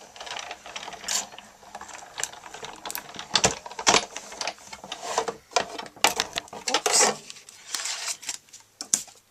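A paper die rolled through a manual die-cutting machine for a Dashing Deer card project gives a close run of dense clicks and ratcheting crunches, steady and mechanical for several seconds with no talking.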